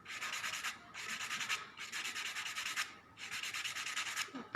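A nail block buffer rubs back and forth across fingernails in four close, steady scraping strokes, each about a second long with brief pauses between, and no voices.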